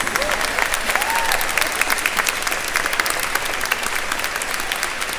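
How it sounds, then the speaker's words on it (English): A large audience applauds graduating students at a college convocation ceremony, with steady, dense clapping that holds evenly throughout, and faint crowd noise mixed beneath it. "Let's have one last round of applause for these intrepid students."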